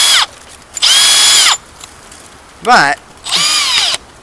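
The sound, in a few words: power drill boring hole through timber beam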